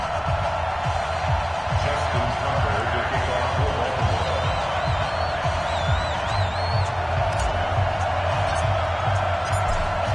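Stadium crowd at M&T Bank Stadium in Baltimore before a Ravens–Saints NFL game, giving a steady, broad roar of cheering and noise that runs the whole time with a few whistles rising above it.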